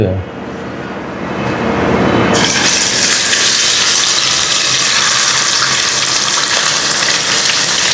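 Glass fish sizzling loudly in hot oil, a steady broadband crackle that swells after a couple of seconds and continues close and constant to the end.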